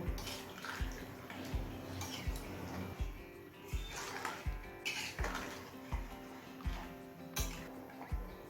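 Water being stirred into a broccoli and paneer curry in a pot, with a regular series of splashy scraping strokes about once a second, close and moderately loud, no talking.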